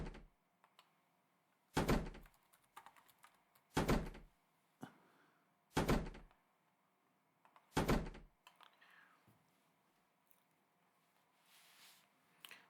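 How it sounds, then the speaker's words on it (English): A door in a main office area bangs shut four times at roughly two-second intervals, each a loud, sharp thud standing out from a quiet room, followed by fainter knocks and rustling. "that is what I expect from a door."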